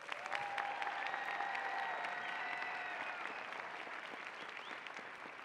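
Sustained applause from a large crowd at a graduation ceremony fills the space, steady clapping with a few faint whistles, no talking.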